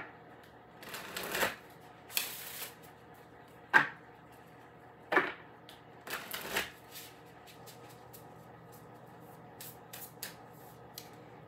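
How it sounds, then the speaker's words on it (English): Oracle cards being shuffled in several quick riffling bursts with pauses between, soft and close, followed by lighter scattered card taps and slides. "Now let me get you your spellcasting oracle cards."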